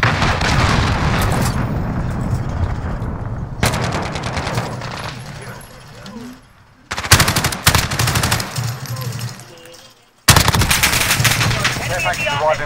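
Automatic weapons fire in Call of Duty: Modern Warfare (2019) comes in loud, dense rattling bursts, separated by short quieter gaps and an abrupt cut to near silence before the firing resumes.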